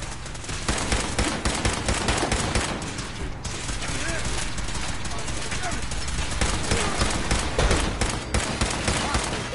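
Rapid bursts of gunfire fill a shootout in the video game Fallout 4, dense and continuous with sharp overlapping shots, while voices shout over the din.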